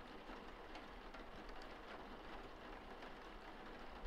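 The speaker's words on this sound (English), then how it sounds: "It's raining like crazy out there." Heavy rain pours outside in a constant, dense hiss with scattered drop patter, even and unbroken from start to finish, with nobody speaking.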